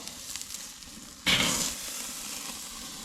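A reverse-seared tomahawk steak is flipped on a hot surface, the low steady background hiss jumping suddenly into a loud, bright sizzle that then settles into an ongoing crackle, heard close up and alone.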